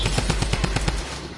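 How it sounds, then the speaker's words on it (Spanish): Rapid automatic gunfire in the video game Fortnite, a loud burst of evenly spaced shots over roughly the first second, then fading into quieter background sound. "Oye, ¿dónde está disparando?"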